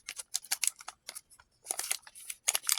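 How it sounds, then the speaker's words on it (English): Packaging of a Fuji Instax Mini film pack being opened, quiet close crinkling and tearing in short bursts. "You just put the camera down like that and you open up the film pack."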